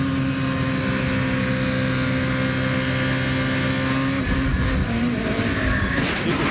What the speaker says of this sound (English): You could almost hear the engine rev up just as in the back broke loose